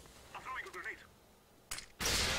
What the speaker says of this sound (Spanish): Ahí falla el disparo.